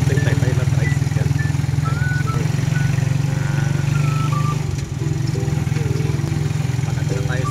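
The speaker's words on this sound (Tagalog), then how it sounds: "Tricycle pa rin tayo. Tayo na tricycle." A motorcycle tricycle's engine drones steadily throughout the ride, a loud, even mid-pitched hum with a brief dip near the end.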